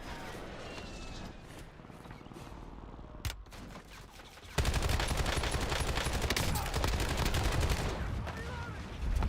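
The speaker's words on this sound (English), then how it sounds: "Like, you're not normally shooting the AK like this." AK rifle gunfire at long range in a video game, with repeated shots and rattling bursts under a continuous background wash that becomes noticeably louder and denser halfway through.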